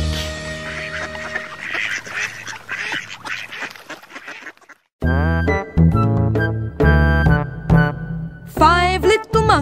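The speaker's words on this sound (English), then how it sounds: "Mother duck said quack, quack, quack, quack" Duck-like quacks sound in a British nursery rhyme about five little ducks. They come in short repeated bursts over a bright musical backing, after a brief pause partway through.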